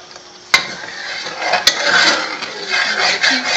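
A spoon stirs a pecan candy mixture in a pot, scraping and swishing steadily with two sharp knocks against the metal, close and fairly loud.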